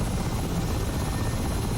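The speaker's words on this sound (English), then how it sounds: "behemoth of a helicopter" A Mi-8 helicopter in the DCS flight simulator gives a continuous, loud rotor and engine drone with an even, unbroken beat and no talking.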